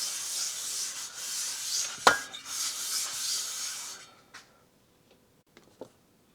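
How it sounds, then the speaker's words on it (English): Hand sanding of a Suzuki RM400 cylinder surface with 400-grit sandpaper: a steady, close scratchy rub for about four seconds with one sharp knock partway through, then near silence with a few faint ticks. "we'll continue on with the 400 grit just to kind of finish up the surface"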